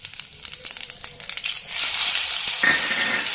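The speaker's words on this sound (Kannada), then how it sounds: "ಸ್ವಲ್ಪ ಎಣ್ಣೆ ಹಾಕೊಂಡ್ಬಿಟ್ಟು ಜೀರಿಗೆ ಹಾಕೋಬೇಕು" Cumin seeds frying in a little oil in a pan, a light crackle with scattered pops at first that swells into a steady, louder sizzle toward the end, heard alone without voices.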